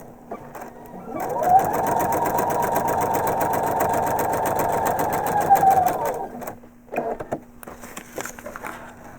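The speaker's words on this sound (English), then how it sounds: "then stitch right along the line and out past the edge through to the very edge of the block" A sewing machine stitches a foundation paper pieced quilt block, a loud, fast, even whirring run of about five seconds that then stops, followed by a few short bursts and quiet handling sounds.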